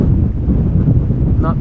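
Strong wind at Amsterdam Schiphol Airport buffets the microphone as a loud, continuous low rumble for under two seconds.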